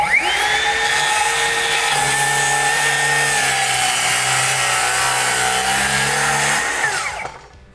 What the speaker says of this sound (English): Just stack the wood up and cut away.